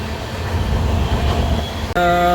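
A loud train rumbles close by at Durgapur railway station, then a steady, piercing tonal whine cuts in near the end.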